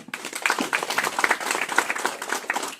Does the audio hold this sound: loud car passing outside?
no